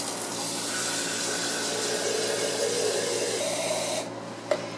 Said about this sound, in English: we're going to fill it up with some water. It could be regular tap water.